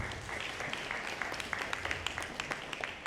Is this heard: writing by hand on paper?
no